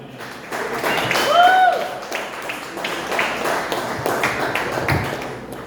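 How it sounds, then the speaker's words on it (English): A comedy club audience at Oak St Brewery applauds as comedian Christopher Anthony takes the stage, steady clapping mixed with scattered cheers and a few voices. "warm round of applause, Mr. Christopher Anthony"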